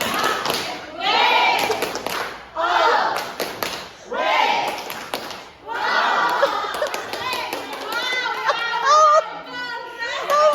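Schoolchildren in a classroom clap out a rhythmic "tepuk wow" chant, bursts of loud group clapping mixed with chanting voices and excited chatter, pausing briefly between phrases.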